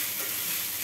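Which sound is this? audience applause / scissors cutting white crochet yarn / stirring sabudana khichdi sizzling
stirring sabudana khichdi sizzling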